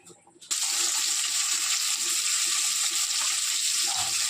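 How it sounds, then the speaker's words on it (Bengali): Potato and eggplant pieces drop into hot oil with salt and burst into a loud, steady sizzling hiss after a brief quiet start, close up and continuous with no talking. "ওর কড়াইয়ের মধ্যে তেলের মধ্যেই আগে আলু আর বেগুনটা ভেজে"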